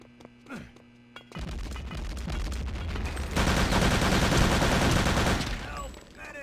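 Rapid automatic gunfire in Return to Castle Wolfenstein during a tournament match, sustained loud bursts that grow denser midway before cutting off, with faint commentary underneath.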